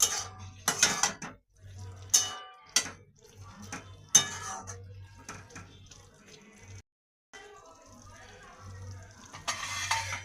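Chicken being stirred in a pan as the lid comes off, with repeated clinks and scrapes of a spoon against metal, some sharp, between quieter gaps and a low background hum.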